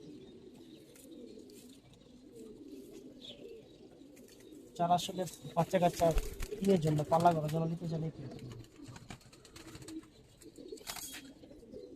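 Old-generation Giribaz pigeons in a loft, cooing and fluttering in a busy burst partway through, with low coos and scattered chirps under a man's close-by speech.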